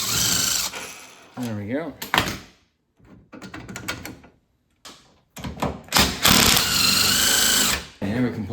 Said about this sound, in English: Actually, I'm just gonna use an impact.